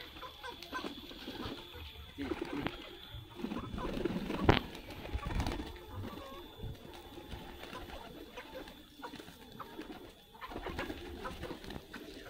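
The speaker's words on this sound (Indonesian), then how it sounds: "Untuk merpatinya, merpati wulung campur, teman-teman." Mixed wulung domestic pigeons coo steadily in a backyard loft, soft overlapping calls with a brief flutter of wings partway through, fairly close and moderately loud.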